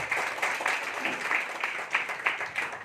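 Audience applause after a call to clap at a business plan presentation, a steady patter of many hands lasting a few seconds at moderate level, with no talk over it.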